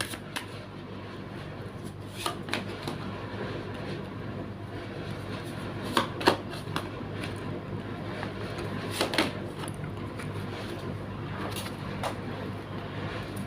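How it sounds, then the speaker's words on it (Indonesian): A deck of tarot cards shuffled by hand, with scattered soft slaps and rustles at an uneven pace over a steady low background hiss, and no voices. "Saya shuffle terlebih dahulu."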